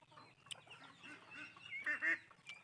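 Ducks kept at home, including White Beauty and Black Python breeds, give several soft honking quacks close by, the calls growing louder and bunched near the end over quiet background.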